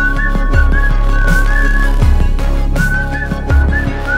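A whistle in a promotional ad for the Maiam Whistle app, sounding as a steady high tone held in several long blasts over a loud, low musical backing.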